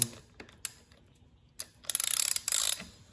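A ratchet tightens the front wheel axle on a Sur Ron electric bike: a few isolated clicks, then two quick rattling bursts of close, crisp pawl clicking.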